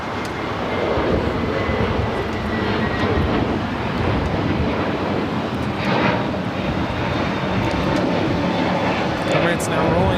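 An Emirates jet airliner rolls down the runway for takeoff at LAX, a loud, steady jet engine roar that swells slightly near the middle and holds without letup, with a voice talking over it.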